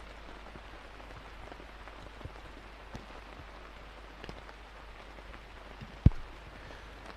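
Steady rain falling on a wooded disc golf course in Turku, a soft continuous hiss of drops with a few louder taps and one sharp knock near the end, no voices.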